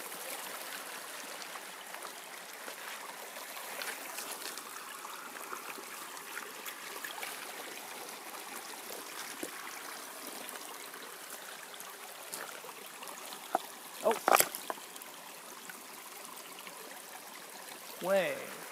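A small forest stream flows steadily with a soft, continuous trickling wash, quiet and close, with a few brief louder splashes or handling noises near the end.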